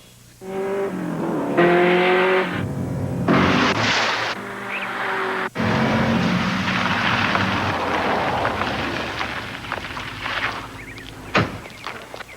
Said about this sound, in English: That, Charles, is my new Porsche 928 S4